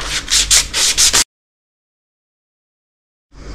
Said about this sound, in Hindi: तो ऐसे आप एमडी पेपर के साथ इसे रब करेंगे।